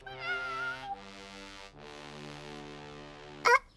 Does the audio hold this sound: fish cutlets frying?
no